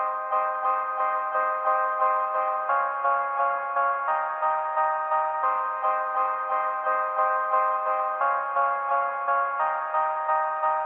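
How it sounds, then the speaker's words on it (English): A simple piano melody from the Alchemy Antarctic Sun preset plays alone, a bright bell-like tone repeating short steady notes in a looping pattern, clear and even with no other instruments. "I just played this very simple piano melody"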